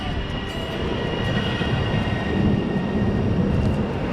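A steady, loud rumble of machinery and rolling noise fills the interior of a train at Milano Centrale station in Italy, continuous throughout with no clear voices.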